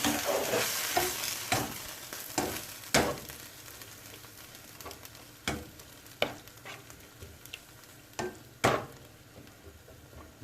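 A spoon stirs vegan curried baked beans in a pot, giving soft scraping strokes with intermittent sharper knocks over a steady low sizzle, close up and alone without talk.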